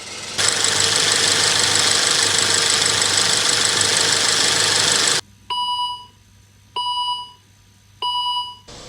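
A Volvo V70 T5 estate idles steadily with a smooth, even hum for about five seconds, then the engine noise drops away and three evenly spaced electronic beeps sound, each lasting roughly half a second.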